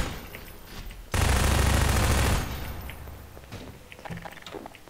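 A single loud burst of automatic gunfire from the Half-Life 2 game, roughly a second long, cutting in sharply over quiet background and then decaying into lingering echo and faint game sounds.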